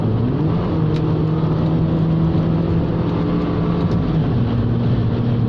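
A Honda S-MX engine roars loudly and steadily as the automatic gearbox kicks down and the car accelerates hard to overtake, engine note climbing and holding.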